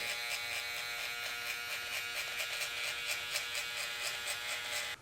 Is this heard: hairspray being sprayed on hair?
no